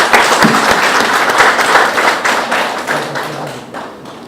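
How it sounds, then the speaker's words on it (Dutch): Loud audience applause, dense clapping that holds steady and then thins out toward the end. "Ik wil een hartelijk applaus vragen voor deze medewerkers."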